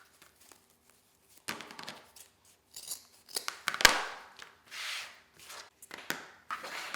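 Scissors snipping through folded ribbon strips for a wreath, a series of close, crisp cuts and rustles in irregular bursts, some louder than others, with no talking.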